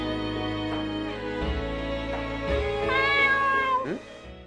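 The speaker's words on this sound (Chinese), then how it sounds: "猫咪叫了耶，好可爱" A cat meows in a horror exploration game set in a candy house, a clear, close, drawn-out cry over steady game music, with no talking.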